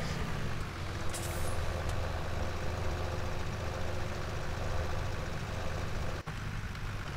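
A tractor engine runs steadily in Farming Simulator 17, a constant low rumbling drone through the whole stretch, close and even, with one brief dip near the end and no voices.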